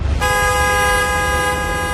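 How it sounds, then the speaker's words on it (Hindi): A car horn blares suddenly after a brief moment of low rumble and holds one long, loud, steady tone to the end, used as a sound effect in a Hindi horror story about friends on a road trip. "सब लोग अगर कार के बाहर खड़े थे तो फिर ये हॉर्न कैसे बजा"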